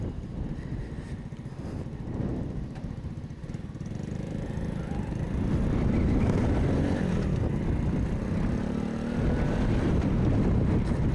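A 2021 Boom BD125-2 125cc motorcycle is ridden with a steady buzzing engine drone that rises as the rider accelerates, mixed with wind rush, close and continuous, with no talking.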